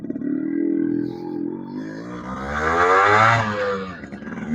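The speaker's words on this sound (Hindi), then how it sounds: "तो देखिए, हमने बाइक स्टार्ट कर ली है। ये फर्स्ट गियर रहा।" A Yamaha RX100 motorcycle engine runs in first gear, a close two-stroke drone that rises and falls as the revs climb and ease off, with no talk.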